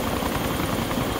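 An armed helicopter in the video game DayZ Overpoch flies at night with a loud, steady rotor and engine drone that fills the whole moment without a break.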